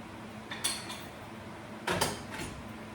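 Shrimp etouffee being plated: two short bursts of clinking dishes and utensils, close and fairly quiet, separated by a pause, with no talking.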